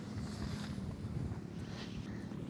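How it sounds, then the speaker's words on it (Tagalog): Strong wind gusting across a beach campsite, a dense, continuous roar buffeting the microphone at fairly loud level with no break. "Napahirapan po tayo ng hangin oh."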